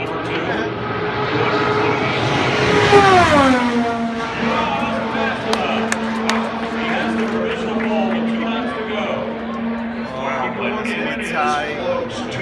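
An IndyCar race car during Indianapolis 500 qualifying at Indianapolis Motor Speedway in 2018, its engine screaming loudly as it approaches and passes off turn 4, with a falling pitch sweep that settles into a steady drone while a commentator talks over it.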